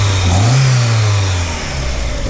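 A 1993 Mazda Miata NA engine runs with a steady low hum, its pitch climbing briefly in a quick rev before settling back to a smooth idle-like drone, close and loud throughout.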